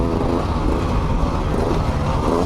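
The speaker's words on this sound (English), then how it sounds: "Kevin is riding a 2020 Sherco 300 SE factory." A 2020 Sherco 300 SE Factory dirt bike engine drones steadily and loud throughout while riding a mountain trail among pine trees, with no talk.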